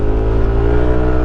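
A Yamaha NMAX scooter accelerates uphill on a road toward a high hanging footbridge in the Philippines, its engine giving a steady, loud, close whirring drone with constant low harmonics and no talk over it.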